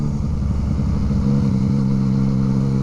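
Yamaha MT-09 motorcycle with a stock exhaust, its engine running with a steady, close, droning growl and a slight shift in pitch partway through, with no voices.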